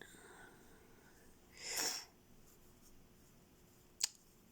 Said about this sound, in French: Je suis désolée si je renifle, je suis enrhumée.